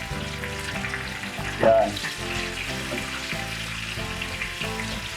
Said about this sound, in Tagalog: i-deep fry natin, guys. Yan. Kailangan mainit na mainit yung mantika nyo